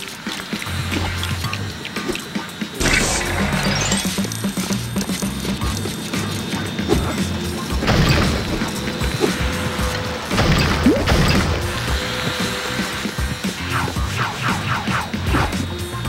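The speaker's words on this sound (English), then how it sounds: "Don't worry about smashing the crane." A construction crane is smashed apart in Lego City Undercover, with loud repeated crashes, whacks and clattering plastic-brick debris over a continuous game soundscape, no talk.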